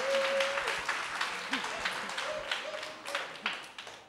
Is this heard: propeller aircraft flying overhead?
no